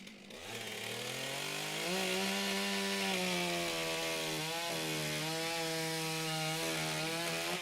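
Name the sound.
chainsaw cutting a wood block, STIHL Timbersports single saw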